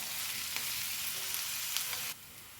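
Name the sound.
onions frying in coconut oil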